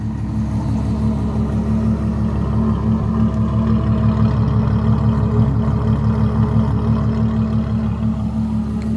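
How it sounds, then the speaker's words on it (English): A deep, throaty 2012 Ferrari FF 6.3 V12 exhaust rumbles steadily up close, holding an even, low drone without clear revs. "Beautiful sounding exhaust."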